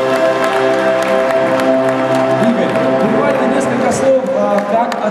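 Audience applause at the Golden Camera 2014 awards ceremony as a guest is invited on stage, a steady wash of clapping running throughout with voices mixed in.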